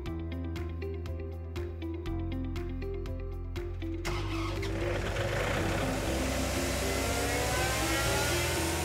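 Atlas Copco XAS 188 portable air compressor starting up: a series of regular clicking ticks over a low hum, then the diesel engine catches and settles into a steady, loud, rumbling run.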